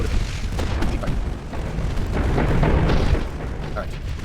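Warships fire naval guns in the game Ultimate Admirals Dreadnoughts, a dense rumble of overlapping booms and blasts, loud and close, swelling midway with distant crackling impacts.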